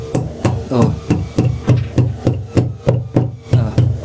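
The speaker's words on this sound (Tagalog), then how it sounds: "Dandahan lang, wag masyadong pukpok kasi nauga" Repeated hammer blows while fitting a water hose onto a vehicle exhaust pipe, about a dozen sharp, evenly spaced metallic knocks at a steady rhythm, close and loud with no talk over them.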